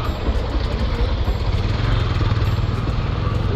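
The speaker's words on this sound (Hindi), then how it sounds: "चलो अब मैं चला के आपको एक्सपीरियंस बताता हूँ।" Honda X-Blade motorcycle engine running steadily close by, a continuous low rumble lasting a few seconds as the rider sets off after rear monoshock repair.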